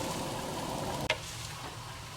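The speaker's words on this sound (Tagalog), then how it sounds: "Kaya ako ginigisa ang ahos bombay, luya" Garlic, onion and ginger sautéing in annatto oil, a soft steady sizzle broken by one sharp clatter midway, then quieter frying.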